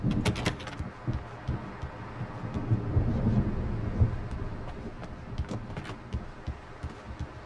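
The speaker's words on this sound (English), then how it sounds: "The storm is almost here." Low rumbling thunder from an approaching storm in Alan Wake Remastered rolls in waves beneath ambient game sound, with a few sharper crackles early on and no talking.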